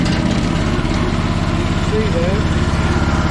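Small engine of a Chinese mini excavator running at a steady idle, a close, even low chugging hum, with someone speaking briefly over it.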